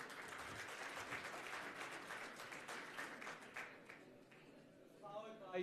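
Scattered audience applause in a conference hall at a hydrogen summit, moderate and fading after a few seconds as a voice begins.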